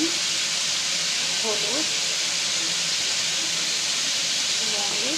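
Cinnamon, bay leaves and salt fry in hot oil for a cauliflower and chicken curry, giving a steady, loud sizzling hiss throughout while someone talks over it.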